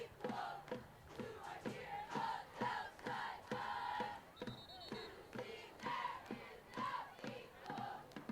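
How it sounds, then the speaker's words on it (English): Cheerleaders at a high school football game chanting in rhythmic, clipped bursts with a crowd behind them, steady and moderately distant for several seconds. "heerleaders led by Dawn Clopton at Southside continuing to cheer no matter what the score is"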